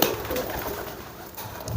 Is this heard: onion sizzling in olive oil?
no